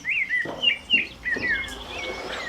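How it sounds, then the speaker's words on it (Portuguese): Birds sing in bright, repeated chirps and short whistled phrases, fairly close, over a soft outdoor background with no voices. "O pássaro é a sinfonia e a liberdade deste lugar"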